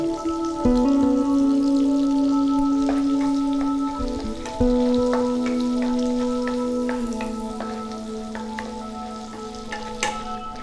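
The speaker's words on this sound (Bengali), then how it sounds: "এই তেলেই নিয়ে নিচ্ছি 1 চামচ মাখন, দিয়ে দিচ্ছি রসুন কুচি" Chopped garlic frying in butter and oil crackles and sizzles steadily at close range, with scattered pops and spatters over a sustained tonal hum.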